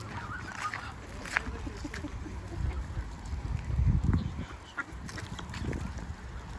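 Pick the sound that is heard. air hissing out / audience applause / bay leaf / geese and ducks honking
geese and ducks honking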